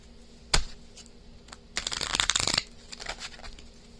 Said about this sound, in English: Just one more shuffle and then we'll begin.